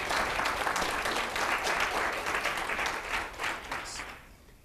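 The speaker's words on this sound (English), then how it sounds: "I want us to all give her a round of applause." Audience at a business development seminar breaks into a full round of applause, dense, loud clapping that holds steady and then tapers off into quiet at the end.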